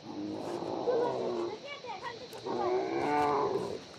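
Cows and bullocks being herded let out two long, low moos in close succession, fairly near and clear, each lasting over a second.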